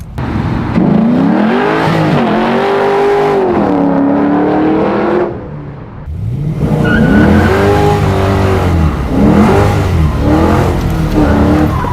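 A Ford Torino or Pontiac Grand Am race car engine revs and accelerates hard in long rising, falling pulls, loud and close, with a brief dip before the engine surges again.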